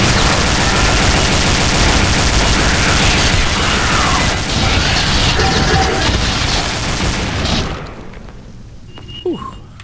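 Sustained rapid automatic turret gunfire in Aliens: Eradication, a Doom 2 total-conversion mod, loud and dense for about seven and a half seconds, then cutting off to near silence with a faint click.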